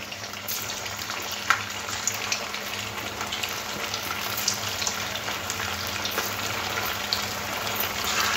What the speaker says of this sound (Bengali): এবারে তেলের মধ্যে দিয়ে ভেজে নিতে হবে।